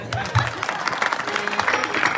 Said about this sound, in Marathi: एकदा टाळी वाजवा